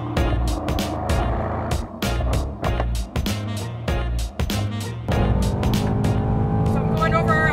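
Mercedes-AMG GT at speed on a race track in Texas, engine note rising and falling through repeated sharp shifts and braking, loud and close from inside the car, with a driver talking over it.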